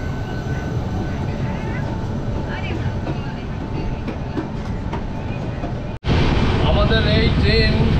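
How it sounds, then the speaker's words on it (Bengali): The Howrah Bikaner Express rolls into a station with a loud, continuous rail rumble and clatter that swells abruptly near the end as it draws closer. "হাওড়া বিকানির এক্সপ্রেস ঢুকছে।"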